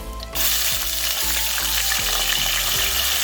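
Ground paste hits hot oil in a kadai, bursting into a loud, steady sizzle after a brief quiet start, with faint periodic scraping or bubbling under the crackle.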